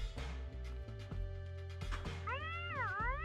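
A cat in the Loomian Legacy game gives a few rising and falling meows over a steady humming music bed, fairly clear and without any talk.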